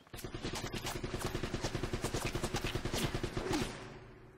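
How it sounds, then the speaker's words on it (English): Rapid, evenly spaced chain gun fire in the Uncharted video game, a steady automatic stream of shots running loud and close for about three and a half seconds before stopping. "Chain gun."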